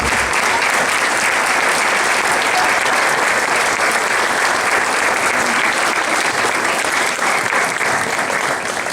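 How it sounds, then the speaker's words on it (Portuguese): An audience at a ceremony claps steadily and loudly for nine seconds, a dense, unbroken wash of applause with no voices standing out. "Palmas."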